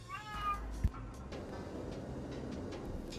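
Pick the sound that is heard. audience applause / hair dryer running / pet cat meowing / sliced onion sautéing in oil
pet cat meowing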